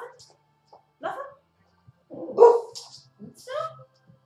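A pet dog named Dhani barks on command, a few sharp separate barks and yips spaced out across a quiet room, interleaved with a person giving short spoken commands.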